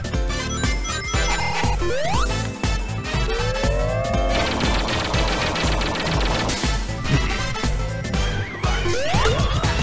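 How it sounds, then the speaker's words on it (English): Glass shatters again and again in Sonic Mania, loud crashes mixed into dense, busy retro game music and other effects that run throughout without a break. "Where the glass is just breaking over and over."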